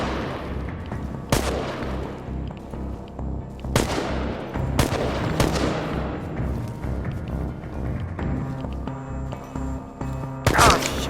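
Gunfire in the video game Chernobylite: several sharp, loud shots spaced a few seconds apart over a dense, rumbling battle background, ending with a quick burst near the close.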